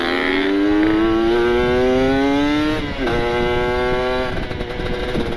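Kawasaki Ninja RR two-stroke motorcycle engine revving loudly and up close, pitch climbing steadily through a long rising rev before dipping and climbing again.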